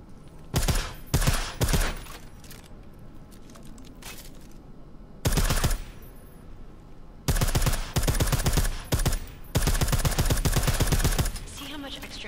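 Suppressed gunfire in a video game, fired in repeated bursts of rapid shots. Several tight clusters of crisp, fairly loud reports are separated by short quiet gaps, with a steady low room hum underneath.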